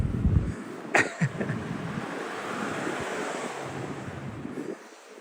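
Wind buffets an outdoor microphone on a winter night in Dyker Heights, Brooklyn, as a steady rushing roar with a few brief thumps near the start, then drops away at the end.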